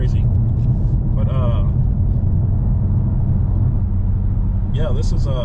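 A low, steady engine rumble of a 2022 BMW M4 Competition, heard from inside the car, with brief voices speaking over it near the start and end.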